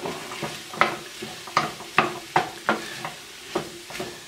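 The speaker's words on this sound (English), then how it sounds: "We're going to stir that up." Onions, garlic and tomatoes are stirred in a hot pan, with a soft sizzle under a steady series of spoon scrapes and taps, roughly two per second, close up and without speech.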